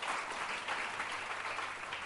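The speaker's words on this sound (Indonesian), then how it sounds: "Berikan tepuk tangan dulu bagi Tuhan." Congregation clapping during a fasting prayer service, a soft, even patter of many hands heard at a distance, steady throughout with no talk.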